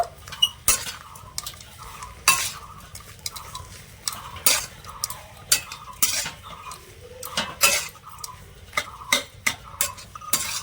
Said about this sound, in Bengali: এবারে ভালো করে নেড়ে ছেড়ে মিশিয়ে নেব